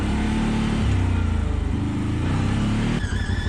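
The engine of a CF Moto 800 XC rises and settles with throttle during a ride on a long downhill section, its close, steady buzzing hum changing pitch a few times and dropping off near the end.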